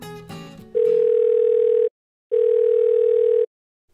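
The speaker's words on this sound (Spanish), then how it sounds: "déjame llamar a la señora Chen" Telephone calling tone on an outgoing call: two long, steady, loud beeps separated by a short silence, heard close and clear after a brief musical jingle.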